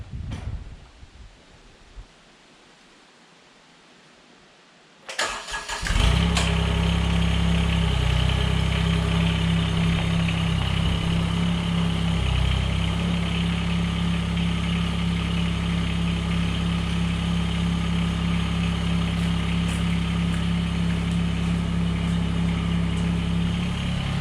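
A Mahindra eMax 20S HST compact tractor engine idles steadily and loudly after a brief quiet start, a constant low rumble with a steady hum.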